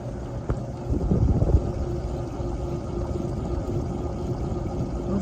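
An antique Emerson Fernleaf four-blade ceiling fan spinning at full speed, giving a steady low whooshing hum of moving blades that holds even throughout, with no voices.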